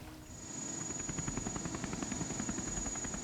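Helicopter rotor thumping in a fast, steady rhythm over the Siberian taiga, rising from quiet and then holding loud and close, with a thin high whine above.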